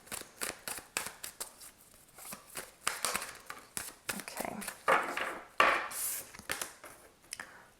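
Tarot cards are shuffled by hand in repeated quick riffles and slaps, a series of sharp papery bursts with short pauses between them, close and fairly quiet with no talking.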